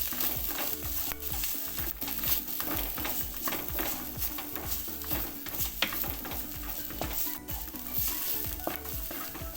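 Chilli powder and turmeric fry in a pan for a fish-head curry, giving a continuous sizzle broken by rhythmic stirring scrapes and clinks, close and unbroken by speech.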